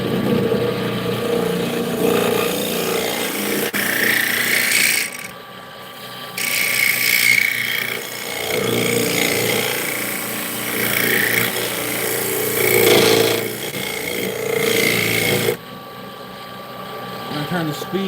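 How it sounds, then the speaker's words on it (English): Small woodturning scraper cutting a spinning wood piece on a lathe, a loud continuous rough scraping roar that breaks off and resumes several times, with a voice at moments. "Scraper here, my smaller scraper"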